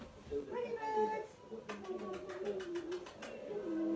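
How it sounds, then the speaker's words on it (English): Pet doves coo close by in soft, repeated low calls, with someone talking over and between them. "Wait, pretty birds."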